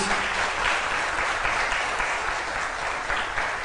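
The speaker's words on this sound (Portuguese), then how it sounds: "Aplauda ao Senhor nesta noite em nome de Jesus." A church congregation applauds during an evening service, a dense, even roar of many hands clapping that stays steady and loud throughout, with no break.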